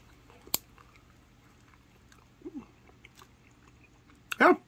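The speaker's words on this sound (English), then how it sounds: "I'm not going to keep chewing it, though" Sporadic faint chewing of gum from a trading card pack, close to the mouth, with soft mouth clicks, a short murmur and a louder vocal burst at the end.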